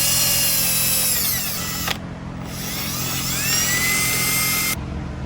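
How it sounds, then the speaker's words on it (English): A wire brush scrubs dirt off the cylinder head of a CR80 engine during a teardown, a steady, loud, harsh abrasive whir that dips briefly about two seconds in. "I'm just going to hit these with the wire brush. Get some of this dirt off of here."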